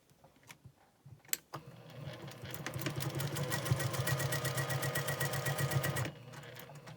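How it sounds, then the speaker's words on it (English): A sewing machine stitching paired quilt block pieces, a few handling clicks first, then a steady fast mechanical whirring and ticking run of about four and a half seconds that stops abruptly, close up with no talk. "you're going to start out by sewing these 2 in a pair"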